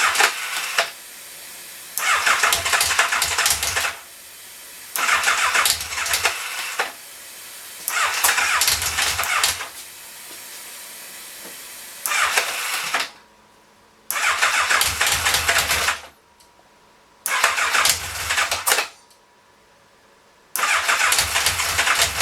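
An old engine with the choke set, not run for a while, is cranked over and over in bursts of a few seconds each, the starter churning loudly between short silent gaps; it never clearly catches and runs.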